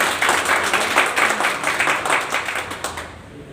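Audience at a network marketing plan meeting breaks into dense, sustained applause, steady clapping filling the room for several seconds before tapering off at the end.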